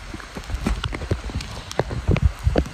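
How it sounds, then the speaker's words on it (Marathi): Rain at Karnala Fort falling steadily as a dense patter of drops and splashes, close and fairly loud, with scattered sharper hits standing out. "पाऊस तर चालूच आहे"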